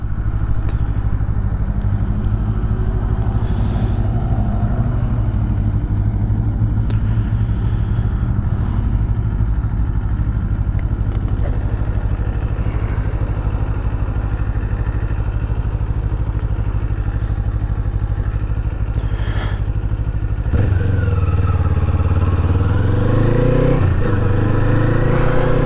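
A Kawasaki Eliminator motorcycle on a ride, with a steady, loud engine drone, road rumble and some clatter, and a rise in revs near the end.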